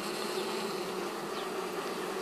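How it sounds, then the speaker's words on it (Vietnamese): Honeybees crowd a hive entrance, fanning their wings in a steady, dense buzz that holds close and even throughout with no pauses. "Các chú ở trước tổ này cánh luôn quạt."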